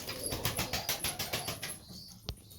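Tumbler pigeons in their loft, a close run of rhythmic wing flaps and fluttering lasting a couple of seconds, followed by a single sharp knock, with no voices.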